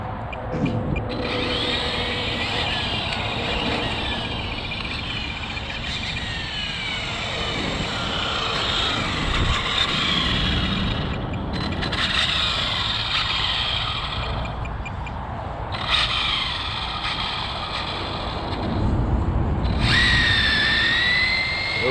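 An Exceed 1/8 scale Mad Drift RC car runs with a steady, continuous high-pitched electric motor whine that surges in several bursts as power is applied, loud and close throughout with no talking.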